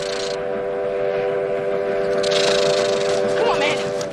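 A train approaches along railroad tracks in the film Stand by Me, its horn sounding as sustained, steady tones over a low rumble for about four seconds, with faint voices in the background.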